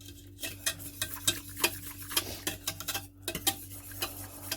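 A spoon stirs a butter and flour paste into roast chicken pan juices, making rapid, rhythmic scraping and clinking against the pan over a soft sizzle, close and steady with no speech.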